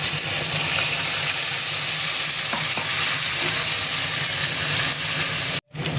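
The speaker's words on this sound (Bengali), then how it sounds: "এবার বেটে রাখা মশলাটা দিয়ে দেবো।" Ground spice paste sizzling loudly in hot oil with cardamom, cinnamon, dried red chilli, bay leaf and a pinch of asafoetida, a steady close crackling hiss while being stirred, cut off briefly near the end.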